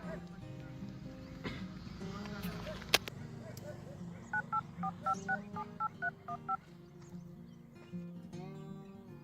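A rapid run of about nine dialing beeps, evenly spaced, with background talk and a sharp click just before.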